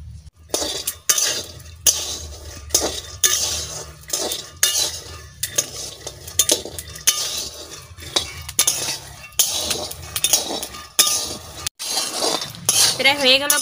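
Peanuts fry in a pan as a utensil stirs them, giving continuous scraping and clinking of metal with a steady sizzle underneath, close and fairly loud.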